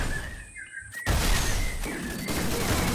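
MAC-10 gunfire in the Free Fire video game on the Solara map, a sharp burst around the one-second mark followed by dense, continuous rapid shots and game noise.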